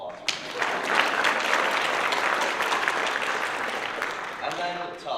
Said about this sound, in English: Can we give some applause for him?